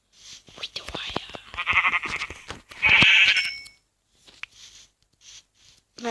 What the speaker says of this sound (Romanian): Uite oaia!